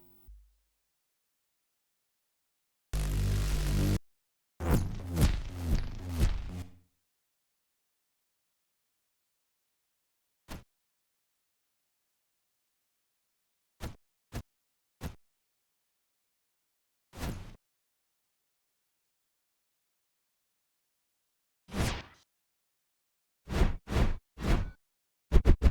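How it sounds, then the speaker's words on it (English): Sci-fi weapon swing whooshes built from pink noise and humming electronic textures with a Doppler sweep, sounding as short isolated swishes separated by silence, with a longer burst near the start. "designing weapon swing sounds using pink noise and humming electronic textures processed through a Doppler effect plugin to achieve that sci-fi whoosh sound"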